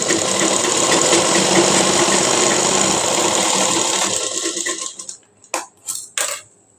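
A sewing machine runs steadily double-stitching the armhole seam of a blouse, a continuous close mechanical whir for about four seconds that slows and stops, followed by a few short separate bursts of stitching.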